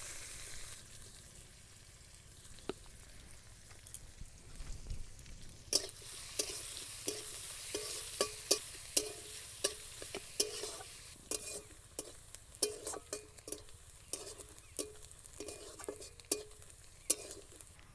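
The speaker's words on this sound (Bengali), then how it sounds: "পেঁয়াজ কুচি দিয়ে দেব।" Chopped onions drop into hot oil with cumin seeds in a pan for vegetable chops, setting off a steady, close sizzle after a quiet start, broken by frequent sharp clinks and scrapes of stirring.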